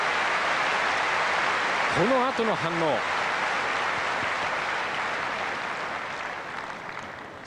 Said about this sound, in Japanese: アナコーンコーチの拍手分かります。